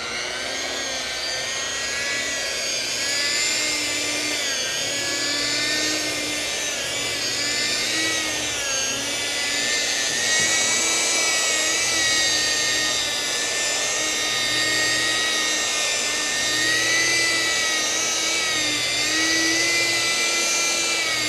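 An orbital sander fitted with an undersized 5000-grit pad polishes an epoxy clear coat on a wall or countertop, making a loud, continuous, close whine with slight wavering and no talk.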